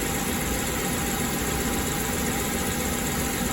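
A van engine idles steadily while warming from cold to operating temperature, a constant close mechanical hum and vibration throughout, with no voices.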